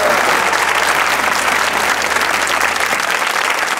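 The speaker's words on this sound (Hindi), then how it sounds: "तालियां बजाइए।" A studio audience at a Pakistani comedy talk show gives loud, continuous, tightly packed applause that stays even and close from start to finish.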